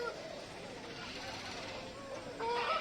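Chickens and roosters cluck faintly at a village poultry market in Hindiganal, Karnataka, sitting low beneath a murmur of background voices and crowd noise.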